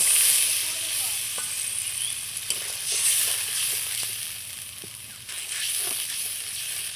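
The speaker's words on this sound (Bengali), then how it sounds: "এই জলটা দিয়ে মশলাটাকে আবারও আমি খুব সুন্দর করে কষিয়ে নেব" Spice paste frying in oil for a vegetarian cauliflower and potato curry as a little water goes in, giving a continuous hissing sizzle with occasional spoon scrapes and soft clinks close by.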